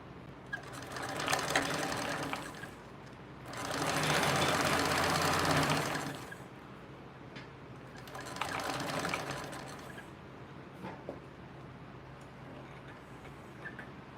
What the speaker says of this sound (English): Now we're gonna top stitch on the other side of the strap connector.